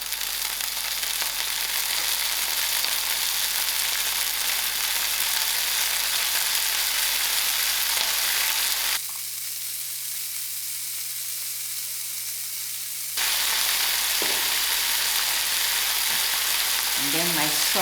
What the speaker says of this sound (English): To my fried ingredients, I'm just going to add in my methi herbs.